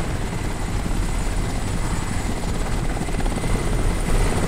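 A helicopter in the video game Crysis gives off a loud, continuous rotor drone and engine roar that holds steady throughout, with no speech over it.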